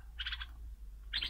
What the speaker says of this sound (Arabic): هذا البلبل المغربي